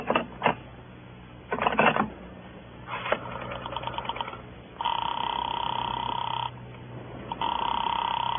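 Old radio-drama telephone effect of a call being put through to Sing Sing prison: rotary dial clicks and clatters in short bursts, then a steady buzzing line tone, a pause, and the tone returning, close and clear.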